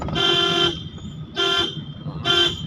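Three loud car horn honks, each about half a second long and evenly spaced, sounding close by over steady traffic rumble.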